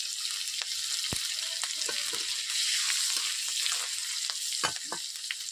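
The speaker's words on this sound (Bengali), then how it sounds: "এরপর চিড়ে রাখা কাঁচা লঙ্কা দুটো দিয়ে দিচ্ছি এখন। এরপর দিয়ে দিচ্ছি 5 ফোড়ন।" Slit green chillies and panch phoron frying in hot mustard oil, a dense, steady crackling sizzle close by with occasional sharper pops and a few light stirring knocks.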